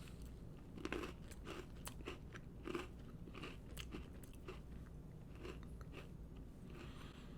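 Lady Gaga Oreo sandwich cookies bitten and chewed up close, with a few sharp crunchy bites early on followed by steady, soft mastication crackles; quiet and intimate, no voices.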